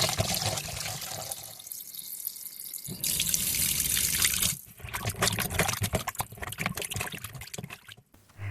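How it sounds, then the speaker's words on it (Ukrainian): Water runs steadily from a tap, splashing and rushing as chicken wings are rinsed beneath it in a bowl, with brief changes in flow and a few clinks. "Збираємо їх в мисочку і під проточною водою кілька раз перемиваємо."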